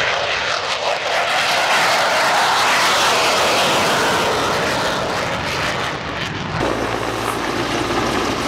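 An F/A-18 fighter jet flies over the Sliač airshow with a loud, sustained roar that swells and sweeps past, then shifts abruptly in tone near the end.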